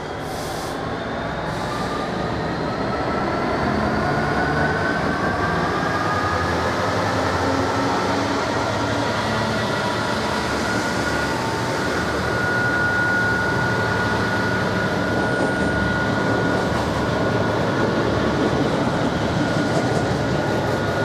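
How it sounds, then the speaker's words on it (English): A nuclear waste train on a model railway layout rumbles steadily past close by, with wheels droning on the rails and a faint high squeal drawn out over the passing cars. "It must be a nuclear waste train."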